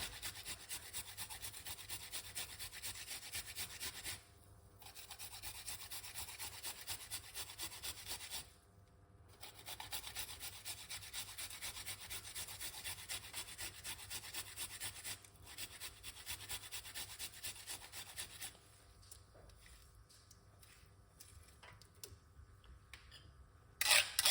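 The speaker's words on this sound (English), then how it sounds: "We're gonna get a nice little piece of a ginger and just grate at it inside of it like this" A small piece of fresh ginger scraped against a grater for a lime, ginger and honey drink, a long run of quiet, close, continuous rasping with a few brief pauses and no talking.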